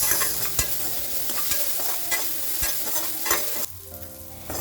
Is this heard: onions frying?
yes